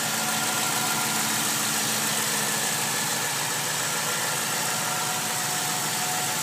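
A 2000 Ford Crown Victoria sedan's engine idling with the hood open, a steady, close mechanical hum with constant vibration and no change in pace, heard alone without voices.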